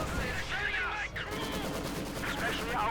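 Tank and machine gun fire in the Company of Heroes 2 strategy game, a dense continuous rattle of gunfire with bursts layered together, steady and fairly loud, with a commentator's voice faint beneath.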